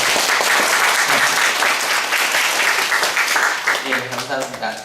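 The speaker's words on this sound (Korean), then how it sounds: "한올교회한테 서로 박수갈채를 한번 보내볼까요?" A Korean church congregation applauds in a thick, sustained wash of clapping that holds steady before thinning slightly, and a voice speaks over it toward the end.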